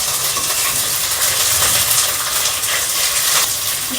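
Bay leaves, kasuri methi, curry leaves and green chilli frying in hot oil: a loud, steady sizzling hiss that crackles throughout, close up and without voices.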